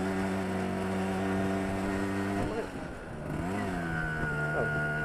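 Small two-stroke moped engine, a Yamaha FS1e or RD50, revving hard with a steady high buzz that dips as it shifts, then climbs again, loud and close with no talk.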